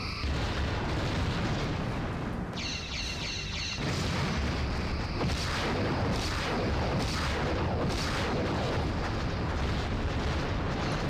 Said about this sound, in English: Let's still fire all of the missiles.